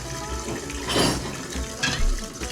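Tap water runs steadily into a kitchen sink full of dishes being washed, a close, splashy rush that swells twice as the flow or the dishes shift.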